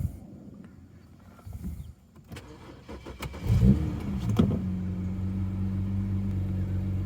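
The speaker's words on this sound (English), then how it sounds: "So that's what the car looks like idling" A BMW bought cheap as a mechanic special cranks briefly and catches, then settles into a steady, fairly loud idle hum that continues to the end.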